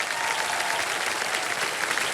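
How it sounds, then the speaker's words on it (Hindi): Dense, loud studio audience applause fills a Kaun Banega Crorepati game-show set, a steady wall of many hands clapping with no break. "एक बार जोरदार तालियां बज जाए इनके लिए।"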